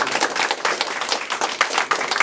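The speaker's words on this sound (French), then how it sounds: "Vous pouvez faire les applaudissements qui vont bien." An audience at a French town-hall ceremony honouring a hosiery worker's 44 years of service claps briskly, with a cluster of close, uneven hand claps that rise and fall in loudness throughout.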